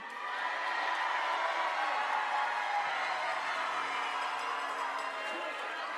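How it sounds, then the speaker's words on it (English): An audience cheering at the Miss USA pageant preliminary competition, a sustained wash of crowd noise and whoops filling the space at a steady level for the whole stretch. "give us the loudest cheers you've got"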